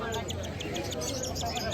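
Cockatiels at the Mirpur bird market chirp in quick, repeated bursts over a steady wash of crowd noise and people talking nearby.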